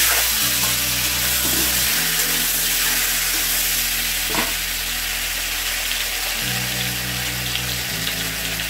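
Mango pieces frying with tempering spices in a hot pan, a continuous loud sizzle with shifting tones as the pieces settle and are stirred, heard up close with no talking.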